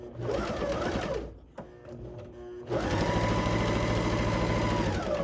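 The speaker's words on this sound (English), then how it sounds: "we're just gonna stitch our little hearts out. Okay, a straight stitch right along here." A sewing machine runs a straight stitch along skirt fabric in close, rapid whirring bursts: a long run, a short pause with a click, then another steady run.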